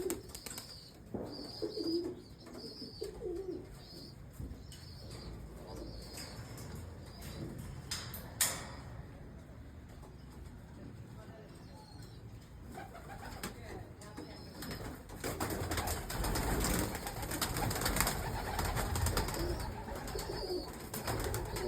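Pigeons, including black pigeons, coo and rustle in a loft setting, with soft repeated coos and occasional wing flaps over a steady background hum throughout.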